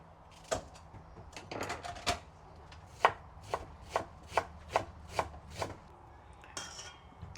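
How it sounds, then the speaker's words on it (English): A knife chops a whole onion on a board in a series of about a dozen sharp, distinct strikes, uneven at first and then fairly regular, close and clear, with no talk. "Then you start chopping"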